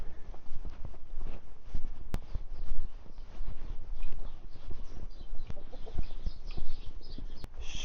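Chickens in a barn during a snowstorm give low clucks and rustles over steady background noise, with shuffling and a couple of sharp clicks.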